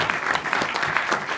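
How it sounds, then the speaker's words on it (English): Audience applause at a film premiere Q&A, a steady burst of many hands clapping throughout the brief moment. "So big round of applause for those guys."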